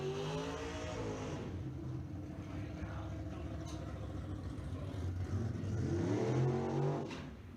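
A front-engine dragster accelerates down a drag strip, its engine a loud, sustained roar heard from a distance, rising in pitch near the end with crowd-like background noise underneath.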